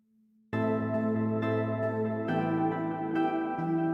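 Ambient synthesizer pad from a music mix, sustained rich harmonic chords that enter suddenly after a faint low tone and shift through several chord changes, loud and continuous with no talking.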